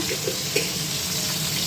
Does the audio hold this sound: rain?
no